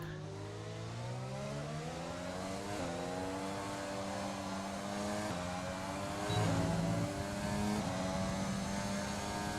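Racing-game engine of an F1 car in F1 2020, a steady high whine with gear-shift steps and rising pitch sweeps, loud and continuous with no talk over it.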